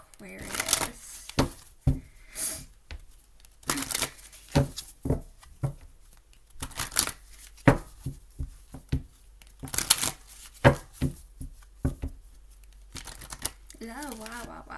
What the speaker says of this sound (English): Me and my shuffling sometimes.